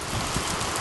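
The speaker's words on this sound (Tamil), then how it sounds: "ஒசூரில் கடுமையான மழை கொட்டிக்கிட்டு இருக்குது." Heavy rain pours down in Hosur during a storm, a loud, dense, unbroken hiss of downpour with no pauses and no voices.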